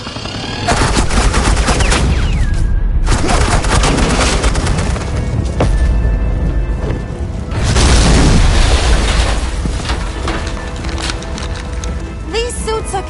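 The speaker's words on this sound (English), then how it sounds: "suppressing fire." Sustained suppressing gunfire from Harley Quinn's agents in Batman: The Telltale Series episode 5, dense crackling bursts and booms running almost the whole time at a loud, close level, with a brief lull near the third second and a voice woven into the mix.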